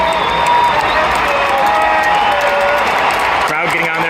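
Baseball crowd noise rising in a stadium as fans get to their feet with a two-strike count on Chisholm, a broad roar of cheering and applause under continuous commentary.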